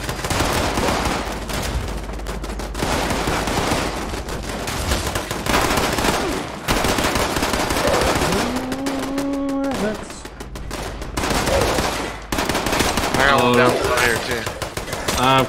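Automated turrets in the Fallout 76 video game firing machine guns, dense rapid bursts of gunfire running almost continuously and loudly, with a voice talking over the shooting in places.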